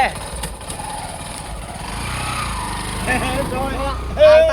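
A motorcycle engine sputters and runs unevenly, seemingly out of petrol, heard close by under ongoing conversation.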